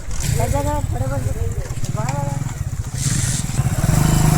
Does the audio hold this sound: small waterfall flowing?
no